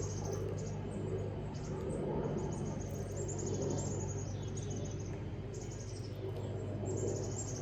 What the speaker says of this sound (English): That's the one cool thing about my backyard, is because we have all these trees, we get so many birds.